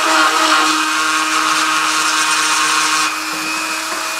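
A small high-speed rotary power tool grinding and shaping the hoof of a lead figure, a steady whining buzz held close and loud throughout, easing slightly near the end, with no talking.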